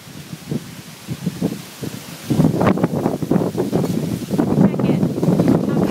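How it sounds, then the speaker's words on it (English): Strong gusts on a windy night buffet the microphone in rough, surging rumbles that grow louder and more constant partway through, with a person speaking briefly over the roar. "I thought I'd let you see how windy it is."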